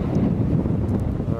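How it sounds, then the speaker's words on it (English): Brief gust of wind buffeting the microphone on the Okinawa coast, a low rushing roar that holds steady for the whole moment. "It's a bit windy."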